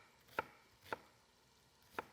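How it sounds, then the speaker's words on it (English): A knife minces an onion on a cutting board: three crisp, separate chops, close and fairly quiet, with pauses between them. "We're just going to mince that onion."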